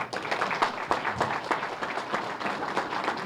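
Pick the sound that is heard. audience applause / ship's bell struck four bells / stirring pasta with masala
audience applause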